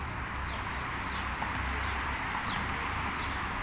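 Small birds sing in a wooded city park beside a tramway stop, with several brief chirps and calls rising over a steady, close background hum of traffic and wind.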